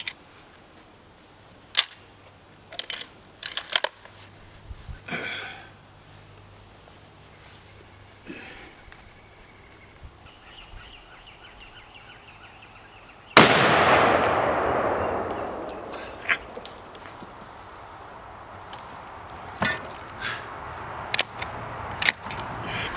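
Winchester Model 70 rifle fired with full-power loads: one loud, sharp shot partway through with a long decaying roll, preceded and followed by scattered clicks and handling knocks in an otherwise quiet setting.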